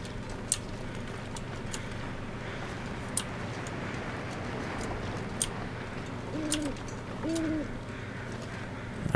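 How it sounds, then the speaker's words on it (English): An owl hoots in a dark nighttime video game scene, two soft low calls in the latter half, faint and fairly distant over a steady ambient background with a few brief clicks. "I hear the owl."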